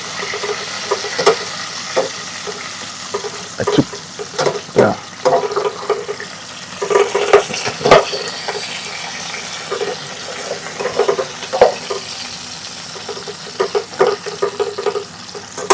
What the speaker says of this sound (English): So let's just fry it a little bit more